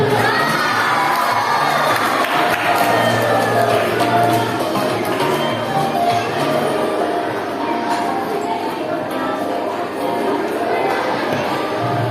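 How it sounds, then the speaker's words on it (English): A school awards ceremony crowd of children claps and cheers for the girls' Kho-Kho League winners, a dense, loud, continuous wash of applause and shouting voices that holds steady throughout. "Clap for them, everyone."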